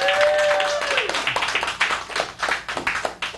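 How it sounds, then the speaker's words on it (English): An audience at a magic show claps in a brief burst of dense, close applause that slowly thins out, with a voice briefly heard at the start. "Give her a round of applause."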